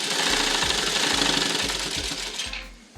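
A sewing machine stitches a blouse, its needle hammering in a fast steady rhythm with regular low thumps close by, running loudly and alone before slowing to a stop near the end.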